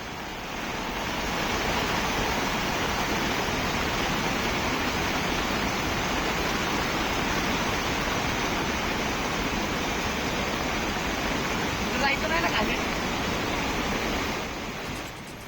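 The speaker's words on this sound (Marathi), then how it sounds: "रस्त्यांना अक्षरशः नदीचं स्वरूप आलं होतं" Floodwater from heavy monsoon rain in Mulshi rushes over a road in a steady, loud, broadband roar that holds for about fifteen seconds, with no voices over it.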